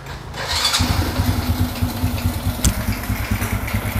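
A bored-up 110cc Honda Revo motorcycle engine cranks and catches, then settles into a loud, close, steady pulsing idle with a light ticking rhythm.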